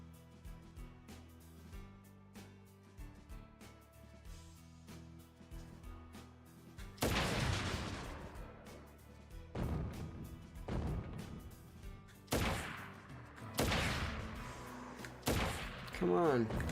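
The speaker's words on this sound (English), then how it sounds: "I'm just shooting stuff with a sniper rifle, shooting robots with a sniper rifle." Sniper rifle shots aimed at robots in the mobile video game Crisis Core Reunion, several loud sharp blasts spaced a couple of seconds apart after a quieter stretch of game music and sound effects.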